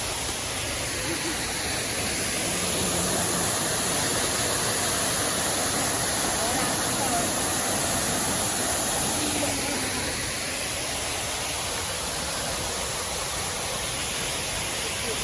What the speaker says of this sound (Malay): kita sudah sampai dekat air terjun Bak Buan Kukut